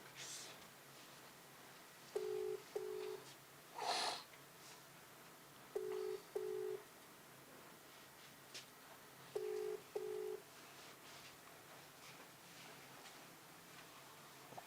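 Telephone tones repeat in evenly spaced pairs of short beeps, about three cycles, with a brief dialing burst early on; a call ringing unanswered, moderately loud with no voices.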